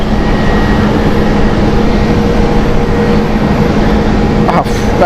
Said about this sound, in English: Air Malta being taxiing out as well.